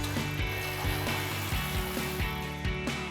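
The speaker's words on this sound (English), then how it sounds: "I've got a 13 millimeter swivel socket to get this top bolt out" A ratchet with a 13 mm swivel socket backs out a bolt on a Bronco's front bumper, giving a quick series of close, rhythmic clicks with no talk.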